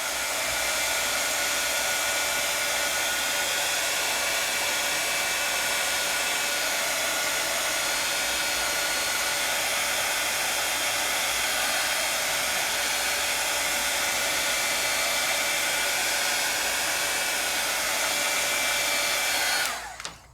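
A heat tool blows steadily on stenciled paper, a loud, continuous whirring roar close up that runs unbroken and cuts off at the end.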